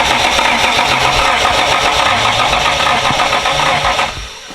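An old car's engine cranks over steadily on its starter motor, a loud, rhythmic whirring churn that runs for about four seconds before dropping off abruptly without catching.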